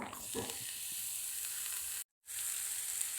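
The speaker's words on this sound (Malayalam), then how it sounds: "ഇനി അതിലേക്കുള്ള പൊടികൾ അതിൻ്റെ പൊടികളുടെ പച്ചമണക്ക് മാറുന്ന വരെ ഒന്ന് വഴറ്റി കൊടുത്തിട്ട്" Spice powders sautéing in a pan for rasam give a steady, soft hiss of sizzling that cuts out completely for a moment just after two seconds, then resumes at the same level.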